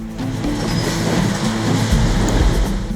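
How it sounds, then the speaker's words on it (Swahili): A construction train rolls along a newly built railway at Emali in Makueni County, Kenya, hauling rail-building materials: a steady, loud, continuous rumble with a low mechanical drone and no voices. "mashine hizi zinatumia reli yenyewe iliyojengwa kusafirisha vifaa vya ujenzi wa reli"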